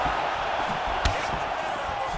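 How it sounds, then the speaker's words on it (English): Crowd in an EA Sports UFC 4 fight roars steadily throughout, with a brief sharp impact-like burst of cheering near the middle as a strike lands; a broad, loud arena wash. "you hear the crowd react every time they come together"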